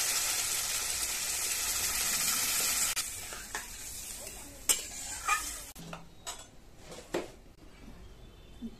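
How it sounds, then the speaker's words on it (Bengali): Fried spice paste for a Bengali katla fish curry sizzles loudly and steadily in the pan, then water is poured in and the hiss drops away, leaving softer bubbling broken by a few sharp clinks of a spoon against the pot. "এখন জল দিয়ে দিচ্ছি।"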